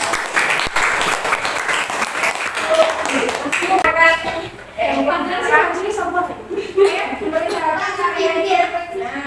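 In an Indonesian classroom, students clap for a presenting student group, producing a dense burst of clapping that soon fades under children's voices and talking.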